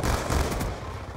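Rapid gunfire from a first-person shooter video game, one dense burst of loud cracking shots that crowds the whole moment without pause.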